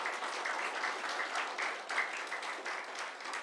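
A lecture audience at a live political forum on local self-government and civil society claps together in a sustained, even wash of applause lasting several seconds, moderately loud with no speech over it.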